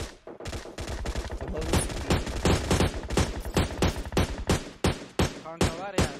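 Sustained, loud automatic gunfire in PUBG Mobile, a fast steady stream of close shots with short pauses, and a voice briefly audible near the end.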